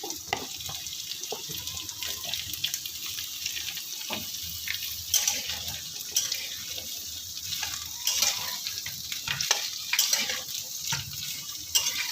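Potato, beetroot and carrot frying in a pan while being stirred, a continuous moderate sizzle broken by irregular scraping and clattering strokes throughout.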